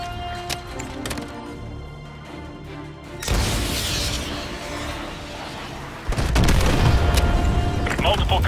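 AGM missile strikes from an aircraft in Call of Duty Modern Warfare 2 land as two heavy, rumbling booms that swell into sustained roaring blasts, loud and close, after a stretch of engine drone.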